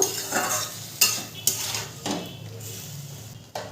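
A spatula scrapes and knocks against a pan while salt is mixed into spicy tomato chutney, with several sharp metallic clanks and scrapes over a faint sizzle.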